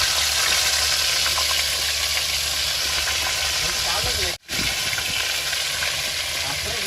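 Fish frying in a wide pan, a steady close hiss and sizzle with a brief break partway through, while a voice talks over it.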